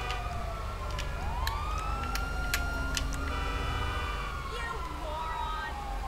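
Wailing video game sirens rise and fall over a steady engine-like rumble, with sharp clicks and beeps scattered throughout, fairly loud and close.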